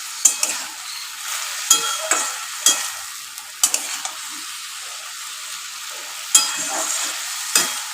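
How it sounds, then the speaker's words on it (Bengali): Onions fry in hot oil in a pan with a soft, constant sizzle, while a spoon scrapes and stirs in irregular sharp strokes, close by and without any talk. "দেখুন পেঁয়াজটা ট্রান্সপারেন্ট হওয়া পর্যন্ত আমি অপেক্ষা করব।"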